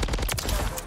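Rapid bursts of gunfire from the Baby Holger 556 in a shooter video game's shoot house map, dense repeated shots filling the whole moment at steady loudness.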